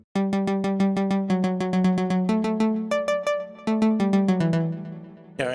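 White Plug synth preset from FL Studio 21's Flex plugin, playing a bright, bell-like plucked melody in quick repeated notes that step up and down in pitch, ending on a sustained tone, with no voices.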